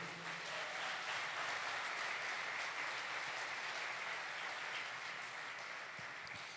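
A church congregation applauds, a dense, steady wash of many hands clapping together that sustains evenly throughout at moderate volume within a large room.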